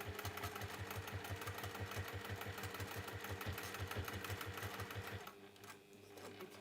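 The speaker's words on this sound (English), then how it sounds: "there's a lot of layers sewing together, so you may find it easier on your machine to put your walking foot on" A sewing machine stitches through several thick layers of cushion cover fabric with a walking foot, running in a fast steady rhythm for about five seconds before slowing and stopping, with no talking.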